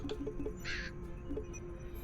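A video game crow gives a short caw amid faint, quiet background tones and light chirping blips.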